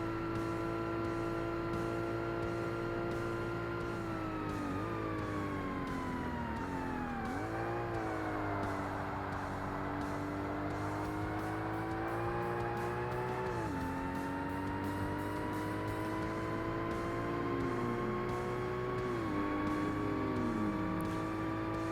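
Race car engine in Forza Motorsport, a tuned D-class car on a hard championship race, roaring continuously as it revs up through the gears with pitch climbing and dropping at each shift, plus faint tire squeal, loud and alone.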